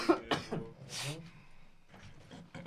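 Several harsh coughs close by, a couple of sharp bursts then a longer rasping one, followed by a faint voice.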